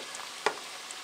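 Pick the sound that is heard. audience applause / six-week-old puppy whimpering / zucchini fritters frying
zucchini fritters frying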